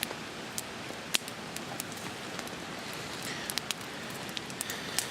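Steady rain patters on a night campsite with a bivy sack and wet gear, a dense continuous hiss scattered with sharp, close drips and taps throughout.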